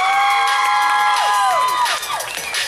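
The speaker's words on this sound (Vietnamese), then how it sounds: "Một lần nữa một tràng pháo tay thật lớn cho 7 thí sinh còn ở lại với chúng ta." Audience at the Mister Vietnam Sacramento pageant final round cheering for the seven remaining contestants, loud sustained crowd noise with whoops and shouting, steady and close throughout.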